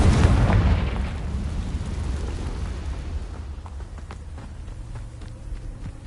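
Confringo fire spell from Hogwarts Legacy: a loud booming explosion at the start that rumbles and fades over several seconds, with faint scattered clicks and crackles trailing behind.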